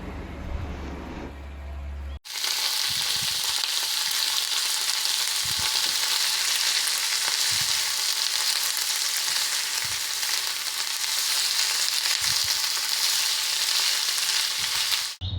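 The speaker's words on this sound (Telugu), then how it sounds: "ఆ తర్వాత నూనెలో వేసుకునేటప్పుడు ఒక్కొక్కటి వేసుకోవాలి, అతుక్కోకుండా" Ivy gourd pakoda pieces hiss and crackle in hot oil with a loud, steady sizzle after a brief quieter start, broken by occasional low knocks, with no talking.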